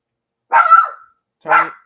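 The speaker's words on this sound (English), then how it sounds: "What are you barking at? You barking at the air again?" A dog gives two sharp, close barks about a second apart, the first longer and slightly drawn out, the second short, in an otherwise quiet room.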